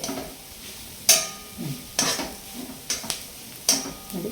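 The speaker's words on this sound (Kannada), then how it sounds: "ಈ ರೀತಿ ಮಿಕ್ಸ್ ಆಗೋವರೆಗೂ ಫ್ರೈ ಆಡಿಸೋಣ" A tempering with sprouted beans is stir-fried in a pan, giving repeated sharp spatula scrapes and knocks against the metal at an uneven rhythm over a soft sizzle, close up and with no talking.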